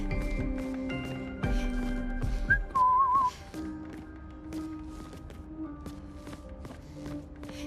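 A person whistles a short wavering tune over a game soundtrack from Clair Obscur: Expedition 33, the whistle bright and close for about a second amid sustained music tones and soft thuds.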